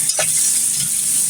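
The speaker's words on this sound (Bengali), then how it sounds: "এরপর কড়াইতে পেঁয়াজ মরিচ তেল দিয়ে ভেজে নিব।" Onions and chilies fry in hot oil in a wok, a loud steady sizzle broken by a single stirring scrape at the start and no voices.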